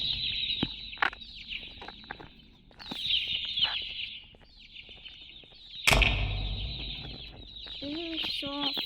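Baby opila bird in the video game Garten of Banban 2, giving repeated high chirps and clucking calls in bursts, with a sharp impact partway through.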